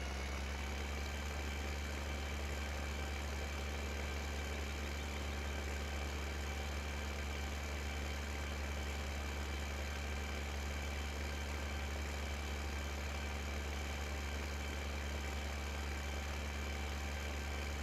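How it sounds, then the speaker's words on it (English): A tractor engine in Farming Simulator 15 hums steadily while working through hilly terrain, a continuous low drone with a faint whine, unchanging in loudness throughout, with no voices. "Getting into the hills, you can actually hear the engine of the tractor winding up a little bit more."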